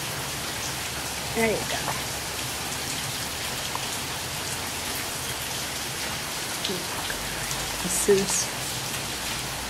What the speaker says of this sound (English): This is what you do when it's raining on Saturday. You see the rain?